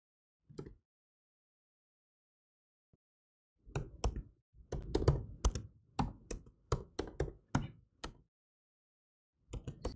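Computer keyboard keys tapped in quick, irregular bursts while a web address is entered, close and crisp against silence, with a few isolated clicks before a longer flurry and a short final burst.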